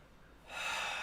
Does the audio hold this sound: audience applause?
no